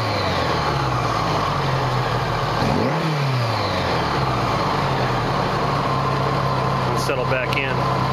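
A Honda GL1100 motorcycle engine runs at about 3,000 RPM after a carburettor sync, with a loud, steady hum, a brief dip and rise in revs, and a voice talking over it.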